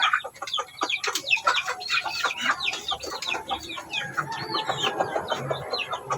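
A brooding hen with her chicks in a backyard brooding setup: close, busy clucking and soft peeping overlapping continuously, with a few louder calls from nearby chickens.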